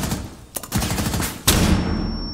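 A flashbang grenade going off in a tactical shooter game, with a sudden sharp blast followed by a lingering high ringing tone, amid loud gunfire and game noise.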